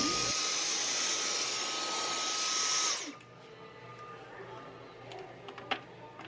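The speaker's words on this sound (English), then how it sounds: "they let you try out the vacuums too" A vacuum cleaner being tried out in a Lowe's store runs loud and steady for about three seconds, then cuts off, leaving quiet store ambience with a few faint clicks.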